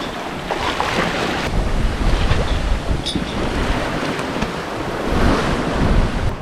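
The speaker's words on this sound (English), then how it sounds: "now and then we're getting some big waves on the beam, so we're really rolling crazy" Big waves strike a sailboat on the beam during a solo crossing of the Kattegat Sea, with a steady roar of wind and rushing water that swells louder near the middle and again toward the end.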